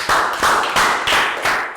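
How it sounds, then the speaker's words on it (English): A small group of Year 3 pupils in a maths class gives a short round of applause, four or five distinct rhythmic bursts of clapping, close and fairly loud. "And round of applause, guys."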